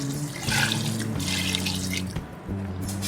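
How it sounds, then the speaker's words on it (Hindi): Two glasses of water pour into a pressure cooker holding mutton karahi, a steady close splashing gush that briefly breaks near the end, then resumes. "तो साथ ही हम इसमें 2 गिलास पानी के डाल देंगे।"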